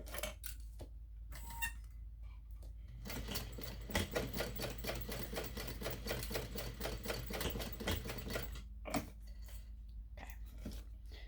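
A sewing machine stitches a seam on a fabric ID pouch with a quarter-inch foot, its rapid needle clatter running in a close, steady burst between short pauses and brief starts.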